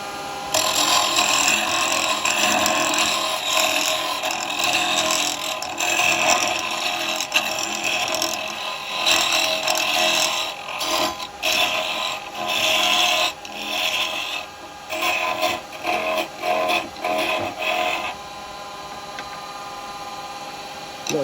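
Woodturning tool scraping and cutting wood on a lathe while hollowing a baby rattle with a 6mm follower, a loud steady rasping grind that runs almost unbroken, with brief dips near the end.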